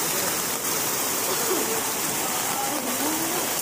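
Floodwater in Maharashtra flows with a loud, continuous rushing roar that fills the whole stretch, and a voice is faintly present beneath it.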